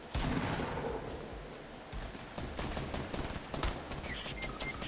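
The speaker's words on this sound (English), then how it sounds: "Oh, that might be an LMG." Light machine gun fire in a Fortnite Battle Royale squad match: dense, rapid bursts of gunshots, loud at the start and then continuing as scattered, slightly more distant volleys with no speech over them.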